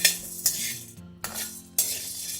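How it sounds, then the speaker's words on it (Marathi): Sago pearls being dry-roasted in a pan, stirred in a few distinct sweeps that give bursts of scraping and rattling, separated by short quiet gaps. "यामध्ये साबुदाणा भाजून घेते एक वाटी साबुदाणा आहे हलकासा दो तीन मिनिट भाजून घेते"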